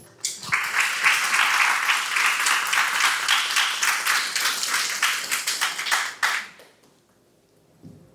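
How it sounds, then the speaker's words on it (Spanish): A crowd applauds for Licenciado Estefano Di Gracia Hernández before his talk on parents' role in education, a steady burst of clapping that stops abruptly after about six seconds, leaving near silence. "vamos con un aplauso al licenciado Estefano Di Gracia Hernández"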